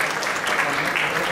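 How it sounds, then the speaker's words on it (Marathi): An event audience applauds for Snehal at a film trailer launch, a dense, steady burst of clapping from a large crowd that fills the whole moment. "तर एकदा स्नेहल ताईसाठी जोरदार टाळ्या"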